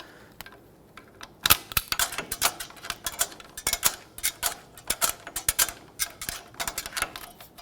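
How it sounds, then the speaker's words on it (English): Brake shoe adjuster on a Chevrolet Express 3500 van spun by hand, producing a quick irregular series of sharp metallic clicks and ticks, close and crisp, with brief pauses between bursts. "I'm going to spin this adjuster to bring the shoes in closer together."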